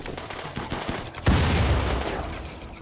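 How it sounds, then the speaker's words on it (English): Video game combat opens with rapid gunfire cracks, then a loud grenade explosion booms and rumbles off into a long, fading roar. "Alright, you can stop throwing the grenades now."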